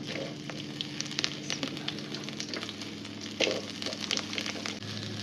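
Onion hits hot oil in a kadai and fries, a soft steady sizzle with scattered crackles and a few clinks of stirring, fairly quiet and close.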